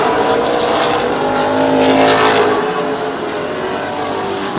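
CRA Late Model Sportsman race cars roar around Plymouth Speedway, a loud, continuous blend of engines droning and swelling as the pack runs past.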